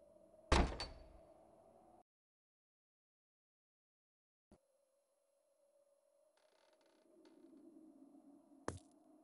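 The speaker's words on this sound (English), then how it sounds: "I think it came from the door back there. Another secret mechanism?" A door opened by a secret mechanism in The Whispered World video game: a sharp heavy thunk, then quiet, a small click, and a rising mechanical grinding rumble ending in another knock, all fairly quiet with no talking.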